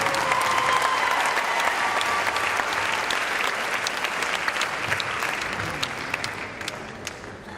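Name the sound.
audience applause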